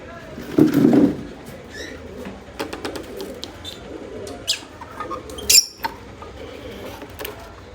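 Pet pigeons kept alongside lovebirds coo in a low, soft burst close by, followed by scattered faint bird calls and small rustles around the cages.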